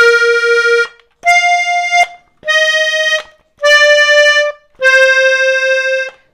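An accordion plays the opening phrase of a song, five separate sustained reedy notes with short gaps between them, close and loud with no talking.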